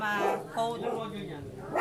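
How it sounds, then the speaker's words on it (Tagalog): A neighborhood dog barks and yips nearby in several noisy bursts, mixed with someone speaking over it. "Wow, ang ingay na aso."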